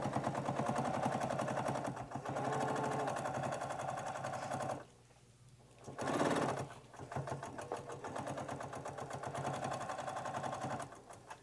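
Domestic sewing machine stitching at high speed for free motion quilting, a steady dense mechanical whir that runs loud and continuous, cuts out briefly for about a second, then resumes with a short burst before settling back into the same rapid rhythm.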